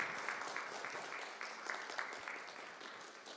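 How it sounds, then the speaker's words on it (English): Audience applause at a Circular Economy launch event in Nairobi, a steady, fairly quiet crowd clapping that carries on evenly throughout without talk. "Let's give them a round of applause as well."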